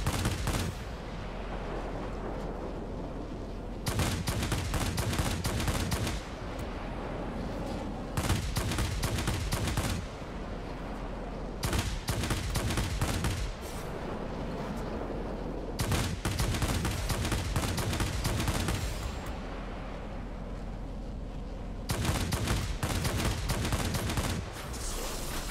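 Rapid bursts of heavy cannon fire from a Tachikawa Ki-162-III fighter in World of Warplanes, loud and close, repeating in long volleys with short pauses and engine roar between.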